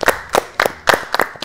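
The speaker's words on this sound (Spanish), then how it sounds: "El aplauso muy tibio, ¿eh?" Lukewarm applause from a studio audience at a gala debate show: about five sparse, separate claps spaced unevenly, each sharp and close, with quiet gaps between them.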